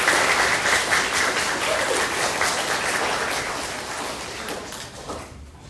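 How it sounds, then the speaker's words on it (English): A spelling bee audience gives a sustained round of applause, dense steady clapping filling the room before fading out near the end. "why don't we do one more round of applause"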